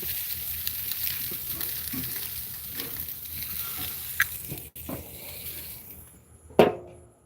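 Mojo-marinated chicken pieces sizzle steadily on a grill, a close, continuous frying crackle with a few sharper pops and a louder spit near the end.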